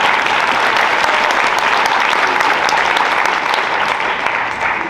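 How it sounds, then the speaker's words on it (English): An audience at the Accelerate conference applauds to welcome a speaker, a dense, loud, steady wash of clapping from many hands that holds throughout. "let's give Alan a warm round of applause and welcome him to Accelerate"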